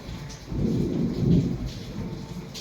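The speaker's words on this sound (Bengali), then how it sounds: "প্রচুর বৃষ্টি পড়ছে আর বাজও পড়ছে প্রচুর" Deep thunder rumbles and swells through a steady hiss of heavy rain, loud and close, with no talking.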